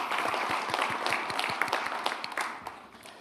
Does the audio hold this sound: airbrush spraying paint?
no